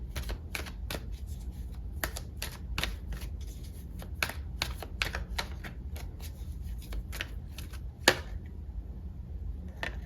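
Tarot cards being shuffled by hand, a steady run of crisp riffling flicks and slaps close by, with a sharper snap near the end and no voices.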